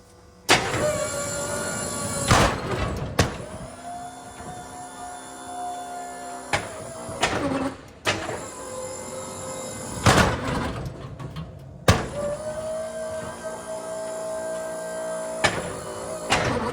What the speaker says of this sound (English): I'm gonna move the plow into a V back and forth